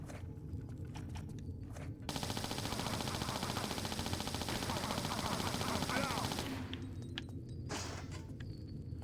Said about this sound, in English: we're gonna pull out the Uzis